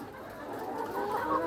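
Chickens clucking softly in a flock kept for eggs, a faint, continuous murmur of fowl sounds without clear individual calls.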